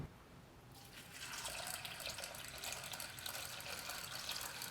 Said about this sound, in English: once we pour the water in